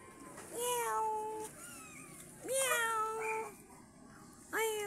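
Pet cats up in a tree give three drawn-out meows spaced a second or so apart, fairly close and clear over a quiet outdoor background.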